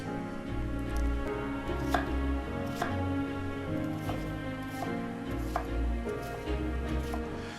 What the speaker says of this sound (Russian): Нарежьте его, ну, таким, скажем, достаточно крупным кубиком.